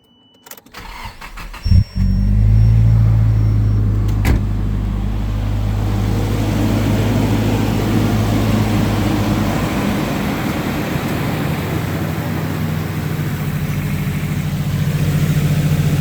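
A Nissan 180SX's engine settles into a steady idle after a brief start-up burst, with a continuous low, even hum and belts spinning, close and loud throughout with no talking.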